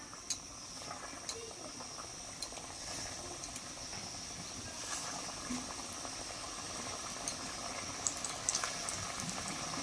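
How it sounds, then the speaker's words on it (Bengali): Khaja pastries, a Puri sweet, are dropped one by one into mildly warm oil, giving a soft, steady bubbling hiss with faint scattered pops, fairly quiet and close. "এই জন্য আমি হালকা গরম তেলের মধ্যে খাজাগুলোকে এক এক করে ছেড়ে দিচ্ছি।"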